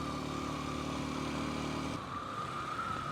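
A Kawasaki KLX230S motorcycle engine drones steadily as it pulls uphill in third or fourth gear, a moderate, continuous mid-pitched hum with a slight shift partway through.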